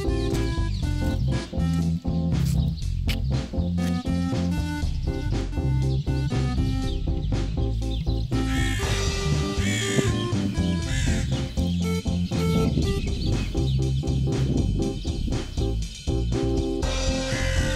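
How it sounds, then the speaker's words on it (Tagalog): Birds call outdoors in a quiet village on a moshav, with crow-like caws and clucking fowl repeating over a busy, layered background, with no talk. "Yung ibon."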